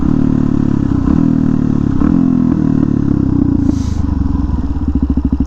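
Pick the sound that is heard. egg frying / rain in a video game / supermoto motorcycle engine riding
supermoto motorcycle engine riding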